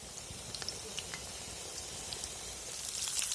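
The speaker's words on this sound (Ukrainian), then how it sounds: "Баклажанчики на мусаку підсмажуються." Eggplant slices frying in a pan for moussaka give a soft, steady sizzle with scattered fine crackles and pops, growing slightly louder toward the end.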